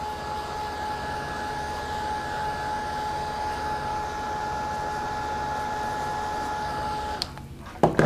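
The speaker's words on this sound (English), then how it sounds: "I'm just drying the paint so we can trim it out." A heat tool blowing steadily to dry paint on an art journal page, a continuous whirring hum with a faint tonal whine that stops near the end, followed by a few small handling noises.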